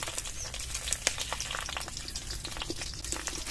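Prawn mixture sizzling and frying in a pan for a Bengali village recipe, a steady close crackle with small pops and spatters, no talk over it.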